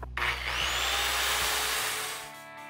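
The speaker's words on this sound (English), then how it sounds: "now we're going to cut it with the circular saw" Circular saw cutting wood for a planter box: the blade whines up and bites into the board in one loud, steady cut lasting about two seconds, then spins down as the sound fades.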